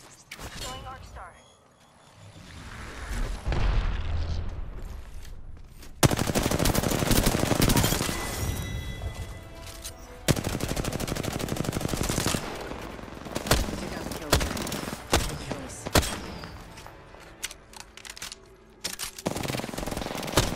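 Gunfire from an Apex Legends match rattles in rapid automatic bursts, loud and close, with heavy shots and mechanical clatter. The firing repeats across the stretch with brief lulls, while voices talk underneath.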